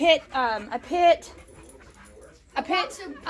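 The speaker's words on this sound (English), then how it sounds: "So this dog showed up on our back porch." A boxer pit bull mix dog that turned up on a back porch whimpers and whines in high, wavering cries, up close. Its cries come in two bursts separated by a short quiet pause.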